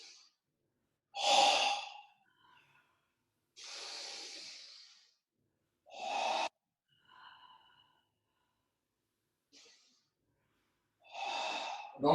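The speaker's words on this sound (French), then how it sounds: "3 respirations abdominales." Slow abdominal breathing during a seated yoga posture, with deep, clearly audible breaths repeating every few seconds as airy inhales and exhales, separated by quiet pauses.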